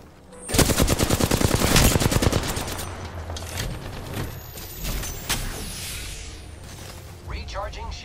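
Rapid automatic gunfire in a shooter game rattles out in a loud sustained burst, then scattered shots, impacts and mechanical clicks follow more quietly.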